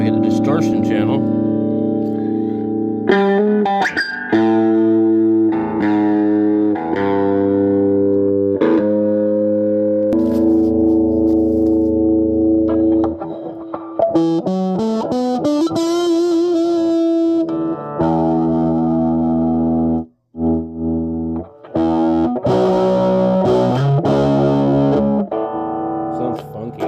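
An electric guitar plays through the distortion channel of a 1988 Peavey Rage amplifier under repair, loud fuzzy sustained chords and note runs with brief gaps, played continuously without talk.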